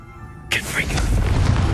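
A Confringo blasting spell explodes in the video game Hogwarts Legacy, a sudden loud boom that bursts in after a moment of quiet and rolls on as a rumbling roar.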